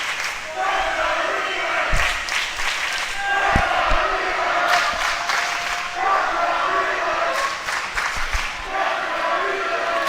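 Two high school swim teams at a boys' meet between Maple Grove and Anoka clap and chant in unison, rhythmic shouts and claps echoing through a pool hall in repeated bursts.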